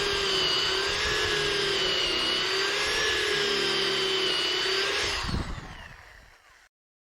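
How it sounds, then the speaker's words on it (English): A steady, high-pitched power drill whine runs continuously for several seconds, close up, while drilling a pocket hole, then winds down and stops. "and then just drill the hole like you would on the big jig"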